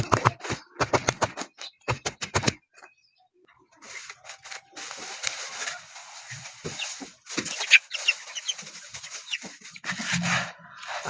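Chickens cluck and call around feed being given, with sharp pecking taps at the start, then busy overlapping clucks at close range throughout.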